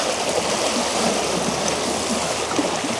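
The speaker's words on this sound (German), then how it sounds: "Aber es ist brutal viel Wasser, was heute hier durchkommt." Fast-flowing river water in high flow rushes past in a dense, continuous roar, loud and steady throughout with no voices.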